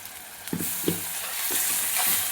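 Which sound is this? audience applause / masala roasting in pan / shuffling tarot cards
masala roasting in pan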